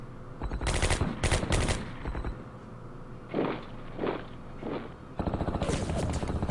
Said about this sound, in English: Defensive artillery helping out.